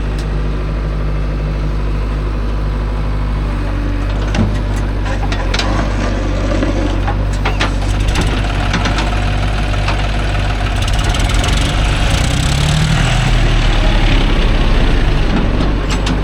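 A Mahindra Yuvo Tech Plus 585 4WD tractor engine runs loud and close beside a JCB 3DX loading soil into a trolley, a constant low rumble with occasional knocks and metallic clatter.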